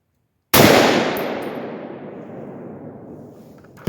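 A Palmetto AR-10 rifle on gas position 3 of 17 fires a single 149-grain 7.62x51 round: one sharp, loud outdoor report after a moment of silence, then a long fading echo that rolls away over several seconds.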